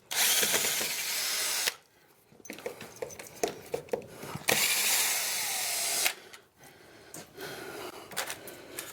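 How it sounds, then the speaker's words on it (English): A power drill unscrewing screws from a wall while it is prepared for a solar panel inverter: loud, close whirring bursts separated by quieter clicks and handling noises. "let's unscrew this over here."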